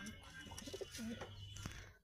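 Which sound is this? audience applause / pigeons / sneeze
pigeons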